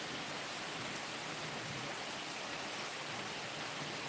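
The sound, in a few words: rain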